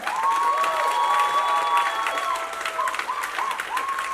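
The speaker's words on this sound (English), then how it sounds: "So I'm going to say a big, big round of applause for our Managing Director, Shashank Goenka." Audience applause and cheering at a school annual day celebration, a steady wash of clapping from a large crowd, loud and continuous for the whole stretch, with a few bright voices rising over it.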